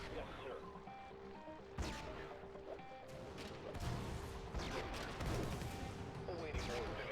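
Dense, continuous gunfire from squads of units in the sci-fi strategy game Infested Planet, with repeated sharp bursts and crashes layered over each other under intermittent speech.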